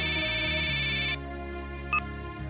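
A telephone rings in a Marathi TV serial household scene, a loud electronic ringtone pulsing steadily in the first half before dropping to a softer continuing tone, with a brief bright blip near the end and no talking.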